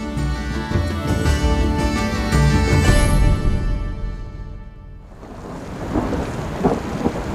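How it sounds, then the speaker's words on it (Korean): Steady rain falls near the end of a rainy season, a dense continuous hiss over low rumbling thunder that fades partway through, then lighter rain patter continues alone. "우기 초기엔 오랫동안 비가 오더니 이제는 간간히 내릴 뿐입니다."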